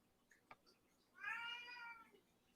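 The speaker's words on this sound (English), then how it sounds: "Yeah, you hear the cat." A cat gives one drawn-out meow, fairly faint and in the background, set among soft clicks and low room noise.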